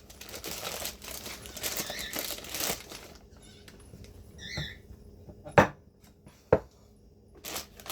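Soft crinkling of a plastic bag handled up close, followed by a couple of sharp taps or thumps; no talking.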